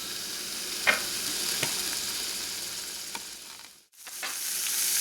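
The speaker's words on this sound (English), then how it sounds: "They're going to take a few minutes to cook" Sausages sizzle with peppers in olive oil in a pan, a steady close frying hiss broken by a few sharp stirring scrapes and pops, then a brief dip to near silence before the sizzle returns.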